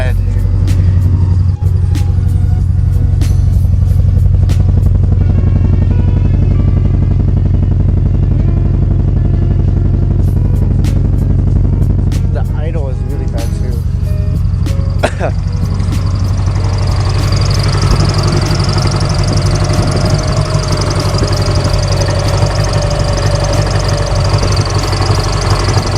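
A Subaru GC8 engine with the check engine light on idles roughly and shakes, a loud, constant rumble with uneven knocking. A person talks over it throughout.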